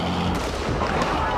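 Gunfire from archival footage of a massacre before dawn on June 4th, 1989, heard as loud, rough bursts of shots over a dense, noisy background.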